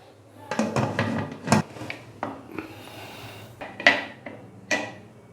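A pressure cooker holding beef is closed up with a series of sharp metallic clanks, knocks and scrapes of lid and pot, close and irregular with short pauses between hits.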